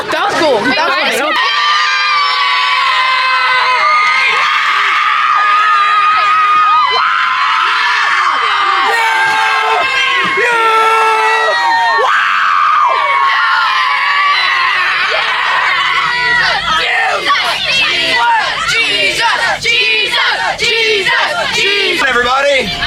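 A crowd of youths at a camp event screams and cheers loudly in a continuous, raucous roar with shouts and whoops, voices mixed throughout.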